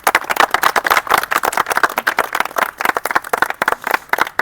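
A group claps loudly and unevenly for Raju, a TA Army 2025 recruit, with dense overlapping hand claps that pulse in bursts and fade slightly before picking up again.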